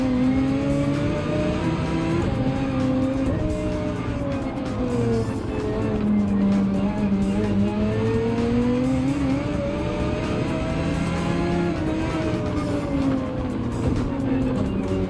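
Race cars in Gran Turismo 7 howl continuously around the Gilles Villeneuve circuit, their engine pitch rising and falling through gear changes, loud and close throughout.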